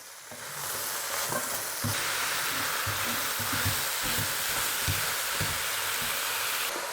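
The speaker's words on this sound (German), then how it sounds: "Und das Ganze lasse ich jetzt richtig schön anbraten." Steady sizzling of beef and vegetables searing in a hot pan for goulash, with occasional louder crackles and stirring clatter throughout.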